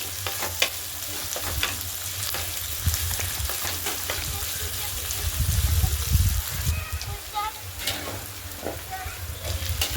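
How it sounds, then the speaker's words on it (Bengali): Onions fry in oil with a continuous close sizzle, broken by occasional scrapes of a spoon stirring them around the pan and a brief heavier bubbling burst partway through. "পেঁয়াজটা হালকা লাল লাল করে ভাজা হয়ে গেলে আগে থাকতে কেটে রাখা আলুগুলো দিয়ে দেবো, দিয়ে পেঁয়াজটা ভালো করে ভেজে নেব।"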